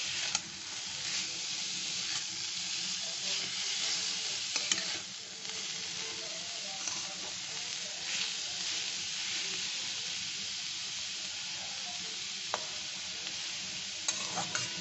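Finely grated ingredient softening in a pan over low heat, a soft steady sizzle with faint stirring scrapes and occasional small pops, close and quiet, no talk.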